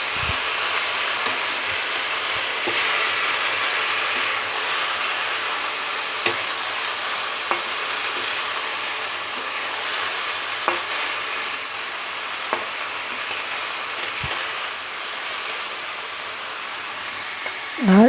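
Radish and dried fish stir-fried in a pan give a steady, close sizzle throughout, with occasional sharp scraping taps from the stirring utensil and no voices.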